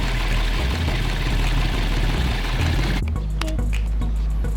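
A warm Toyota engine idles close by, a steady low rumble with an even pulse, joined by clicks and brief tonal sounds in the final second and a half.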